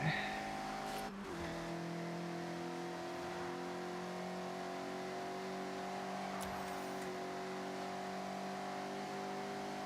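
An upgraded car drives and corners in the Forza Horizon video game with a steady, fairly quiet engine hum holding even tones throughout. A brief rougher burst comes near the start. No one speaks.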